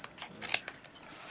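Scissors snip through card being trimmed for handmade tags, with several quick close cuts in a rapid sequence.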